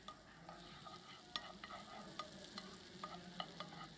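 Chopped shelled oyster meat fries in a hot pan at a food and wine show, a soft steady sizzle broken by light clicks and taps of stirring, heard close and quietly with no talk.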